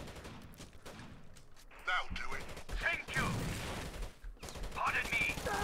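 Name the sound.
gunfire in the Osiris: New Dawn video game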